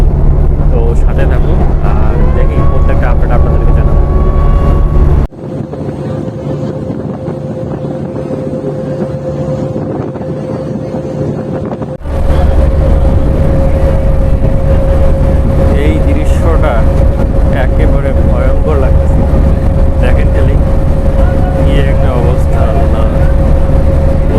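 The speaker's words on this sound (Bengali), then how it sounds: "এমবি সোনাতরি লঞ্চ ছেড়ে দিল চাঁদপুর থেকে" MV Sonar Tori passenger launch pulling away from Chandpur, its engine droning loud and steady with a constant hum and heavy wind noise, briefly muffled midway, while someone talks over it.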